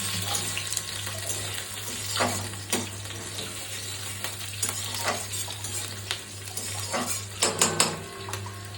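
Pieces of banana stem fry in hot oil in a pan with green chillies, crackling and spluttering in loud irregular pops over a steady sizzle, with occasional utensil stirring and clinks close by.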